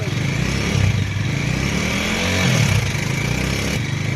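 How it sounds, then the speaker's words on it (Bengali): A Bajaj Dominar 400 motorcycle engine idling and revving close by, a continuous throaty drone that swells twice, heard alone. "ডমিনার স্টার্ট করো, পিক আপ দাও। ইঞ্জিনের সাউন্ড আপনাদের শোনাচ্ছি।"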